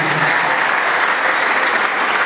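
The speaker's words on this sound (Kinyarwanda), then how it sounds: "Amashyi menshi ku Mana." Dense, loud applause from a church congregation at a chorale concert, continuous clapping filling the space throughout without a break.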